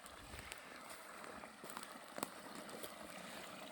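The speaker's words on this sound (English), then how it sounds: "Got ourselves a little stream." A small, crystal-clear stream runs through hemlock woods, giving a steady, even wash of flowing water with faint gurgles and a few soft splashes, heard alone and at low volume throughout.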